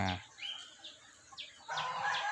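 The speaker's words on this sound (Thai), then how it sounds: "วันนี้จะพามาดูห่านนะครับ ที่เราซื้อมา" Geese kept on a fruit farm give a few loud, nasal honks and squawks close by, with short gaps between calls and a longer burst of noisy calling toward the end.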